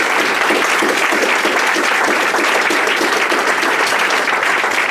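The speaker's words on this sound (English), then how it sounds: "Another big round of applause for Alex, please." An audience at a climate activism talk in Manchester breaks into loud, steady applause after a speech, dense clapping filling the room without a break.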